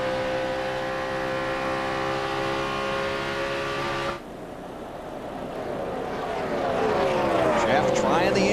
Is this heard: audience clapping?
no